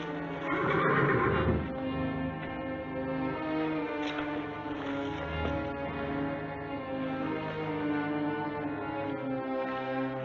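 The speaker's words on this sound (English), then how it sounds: "I need another horse for a friend of mine." A horse in an old Western setting whinnies loudly, a long bright neigh followed by more snorts and calls. Hoof clops and faint background music sit underneath.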